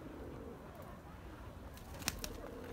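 Perçemli sabuni pigeons coo softly and faintly, with a brief burst of wing flapping near the end against a quiet background.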